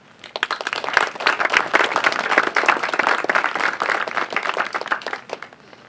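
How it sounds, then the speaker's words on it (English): Audience applause at a high school groundbreaking ceremony, with dense clapping that rises quickly and holds steady for several seconds before easing slightly at the end. "Won't you join me in applauding them?"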